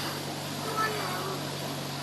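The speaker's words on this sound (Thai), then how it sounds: "ใช้เรือหางยาวลากนะครับ" A long-tail boat engine drones steadily while towing a raft on the river at Sai Yok, Kanchanaburi, a constant low mechanical hum with a voice heard faintly over it.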